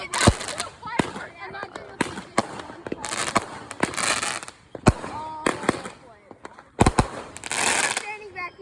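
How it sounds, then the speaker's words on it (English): Fourth of July fireworks go off in a rapid series of sharp, close bangs and crackling bursts, with people talking nearby. "We've already got two fireworks."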